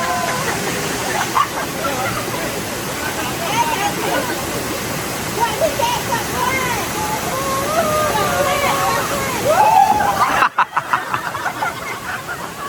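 Steady rushing water at a waterfall on the Sungai Talan river rapids at a Rembau campsite, a continuous broadband roar with splashing and distant chatter from bathers mixed in.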